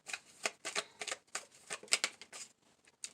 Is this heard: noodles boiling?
no